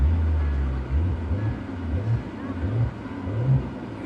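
Maserati Ghibli exhaust rumbling low and steady from inside the cabin under acceleration, with repeated rising surges as revs climb, moderately loud over a continuous cabin drone.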